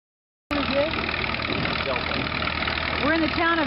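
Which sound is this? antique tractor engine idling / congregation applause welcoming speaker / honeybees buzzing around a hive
antique tractor engine idling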